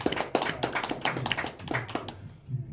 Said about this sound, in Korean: 한번 세 분 위해서 한번 박수 한번.